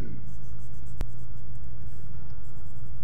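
A pencil or coloring tool scratches steadily on paper while a dragon egg is drawn, a soft continuous stroking under a constant background hiss, with one brief sharp tap.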